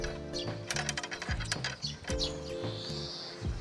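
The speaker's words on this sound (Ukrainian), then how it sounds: "Затягаємо болти." Tightening the bolts on a bicycle disc brake produces rapid, close ratcheting clicks in short repeated bursts with small pauses between strokes.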